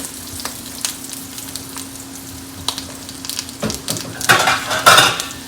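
Peppers popping in a hot frying pan: a steady sizzle with scattered sharp pops and crackles, building louder toward the end, close up with no talk.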